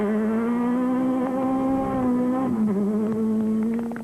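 A rally car on a wet stage, still running dry tyres, drones through a sustained engine note with clear harmonics that holds steady, dips briefly as the revs drop, then climbs again, fairly near and without talk.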